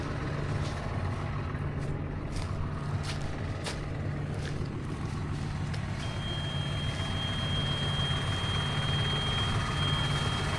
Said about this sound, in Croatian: Nemaš goriva, kontrolka ti pišti.